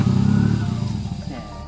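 A Tata vehicle drives past with a loud, throbbing engine drone up close that quickly fades and thins as it moves away.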